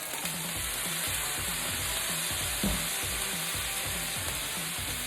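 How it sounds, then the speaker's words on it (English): Shrimp fried rice sizzles steadily in a hot pan, a constant bright frying hiss with rhythmic low scraping and stirring strokes repeating about every half second, close and alone without voices. "on this fried rice, starting to smell good."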